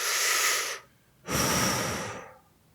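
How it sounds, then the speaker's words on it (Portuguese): Conscious breathing, as in the Wim Hof method: one long, forceful airy breath, a brief pause, then a second full breath that slowly fades, close and loud with no talking. "A respiração está sempre lá, respiração consciente."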